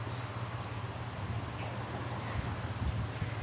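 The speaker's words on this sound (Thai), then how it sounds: "วันนี้ลมแรงมากเลย" Strong wind gusting outdoors on a blustery day in Chanthaburi, a steady broadband rush with heavier buffeting toward the end and no talking.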